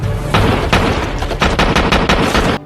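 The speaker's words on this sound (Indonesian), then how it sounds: "anggota lain pun datang membantu dan langsung menembak Sabal sampai dai" Gunfire as a loud sound effect: a rapid string of roughly a dozen close, sharp shots in an irregular burst pattern with booming low end, lasting under three seconds with no speech over it.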